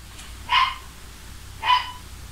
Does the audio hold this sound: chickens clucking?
no